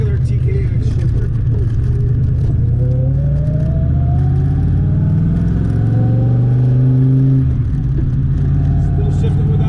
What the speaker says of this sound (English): Still shifting without a clutch.